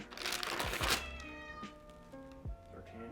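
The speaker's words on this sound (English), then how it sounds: "My dying cat is judging me." A dying cat meows several times, with short, clear cries close by and a few soft knocks between them, while a person talks lightly in the background.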